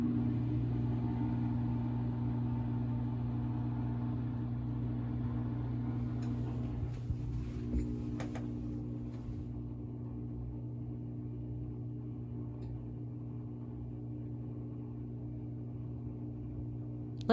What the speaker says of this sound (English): here is one of the spin cycles, and take a listen and look at the results.